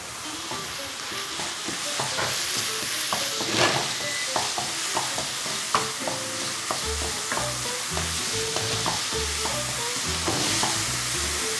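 Ground pork, onions, garlic and ginger stir-fry in a frying pan for a spicy Chinese-style tofu dish. A steady sizzle runs under frequent spatula scrapes and clacks against the pan, close and fairly loud, with no talking.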